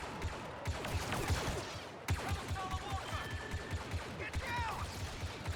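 Rapid sci-fi blaster fire crackles during the Battle of Endor mission in Star Wars Battlefront 2, steady overlapping shots pulsing throughout with occasional zipping laser tones and faint voices mixed in.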